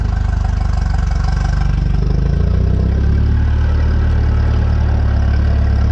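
Tractor engine chugging at idle, then revving up around two seconds into a louder, steady, low running note that carries on alone without speech.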